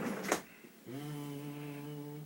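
A voice hums a low, steady buzzing tone for over a second, imitating a 100 hertz bass test tone, after a brief breathy sound.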